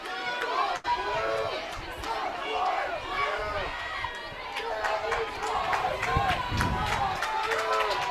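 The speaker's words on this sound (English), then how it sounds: "The rowdy James Madison crowd." A rowdy James Madison crowd at an NCAA softball tournament game against Michigan yells and jeers loudly, a dense roar of overlapping shouting voices with surging peaks, continuous throughout.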